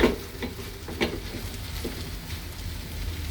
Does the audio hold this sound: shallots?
yes